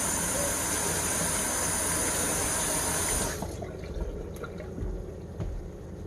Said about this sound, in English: let me rinse my hands off here